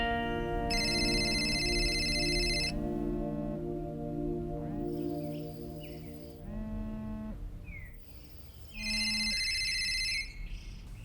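A phone rings with bursts of a bright repeating ringtone, the first long, then a gap and a fainter stretch, then another burst near the end, over a steady low background hum.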